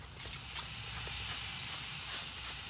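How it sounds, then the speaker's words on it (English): A spray bottle spritzes apple cider vinegar onto meat inside an open electric smoker, giving a few soft, close hissing puffs over a steady background hiss. "We're gonna spritz it down with a little apple cider vinegar."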